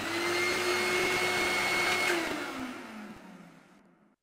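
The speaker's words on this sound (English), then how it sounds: "Drill." A power drill in a children's tool-learning game runs with a steady high motor whine, then winds down and fades out over about four seconds.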